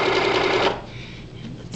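Sewing machine stitching quilt binding, a loud close whirring run of rapid needle strokes that stops abruptly partway, leaving quiet room hum.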